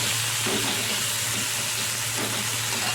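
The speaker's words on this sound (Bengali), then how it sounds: "গোটা টমেটো দিয়ে আমটা আবার নেড়ে ফেলে নিচ্ছি" Whole tomatoes and green mango being stirred in a hot frying pan, a steady close sizzle with a low constant hum running underneath throughout.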